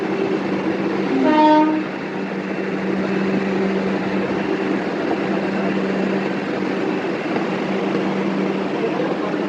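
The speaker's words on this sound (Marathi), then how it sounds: "साईनगर शिर्डी ती पण ती दुसरीवाली पण ट्रेन लागलेली आहे तिथे." Train at Sainagar Shirdi railway station, a steady rumble of carriages on the rails with a short horn-like tonal blast near the start, continuing evenly under the station ambience.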